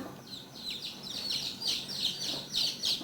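A newly hatched baby chick peeps in a quick series of high, thin chirps, repeated steadily and close by with little else around.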